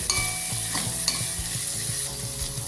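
Potato pieces and broad beans, with onion to follow, sautéing in a pan for upma, a steady sizzle broken by repeated scrapes and stirs of a spoon against the pan, close and fairly loud throughout.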